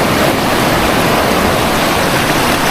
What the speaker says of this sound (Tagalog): Oh, tingnan nyo naman yung alon, no? Ah, kalaki. Pumuputi. Pumuputi yung alon